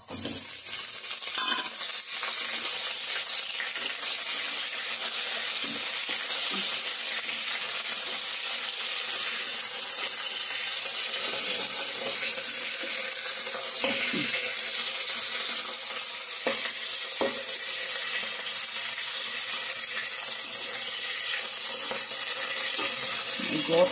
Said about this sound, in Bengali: একটু মাছের মাথাটা দিয়ে দেবো